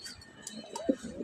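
A Budapest racing pigeon gives a short, soft coo, close by and brief, over faint background noise.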